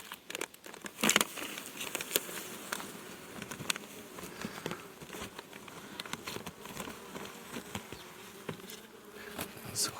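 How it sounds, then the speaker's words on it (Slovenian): Busy buzzing of many honeybees in LR hives before winter, a steady droning hum with quick crackles and taps from insects moving around. "So hude čebelce"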